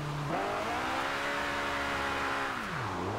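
A Honda S2000 on sports or race tires drives in Forza Horizon 2, its engine holding a steady, loud, close drone with a rise in pitch, then easing down near the end.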